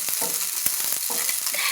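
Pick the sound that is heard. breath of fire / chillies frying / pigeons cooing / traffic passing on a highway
chillies frying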